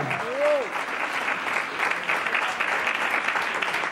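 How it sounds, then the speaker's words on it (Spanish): Congregation applauding in a church service, a dense, steady roar of clapping hands held at even loudness throughout, with a brief sung or called vocal note at the start. "Otro aplauso de victoria."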